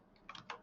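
A few quick keystrokes on a computer keyboard, faint and brief clicks in a quiet room with no one speaking.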